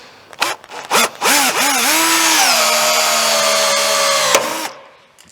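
A power rivet tool sets rivets in a Mazda MX5 NB body panel, whirring in a few short bursts and then a sustained close, loud grinding whine before a sharp snap and stop.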